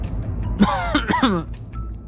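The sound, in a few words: cough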